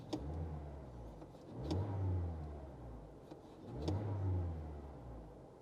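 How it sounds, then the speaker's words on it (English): Car engine revving under throttle, a parked vehicle being checked with an OBD2 scanner, two or three rising then falling revs at moderate distance with no talking. "And again, I'm gonna give it some gas."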